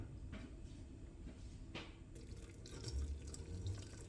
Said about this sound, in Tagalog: Hugasan mo sa mainit na tubig.